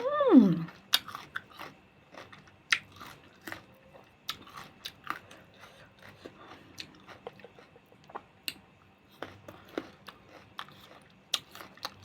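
Someone chews crunchy, non-sour mango fresh from the garden with sweet fish sauce, sharp close crunches and bites repeating at irregular intervals over quiet, with one voiced sound at the start.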